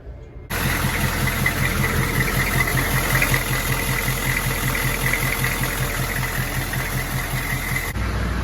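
An Army Humvee truck, repaired after a broken flex plate, starts up and settles into a steady, loud diesel idle with a regular low throbbing knock, running alone without talk.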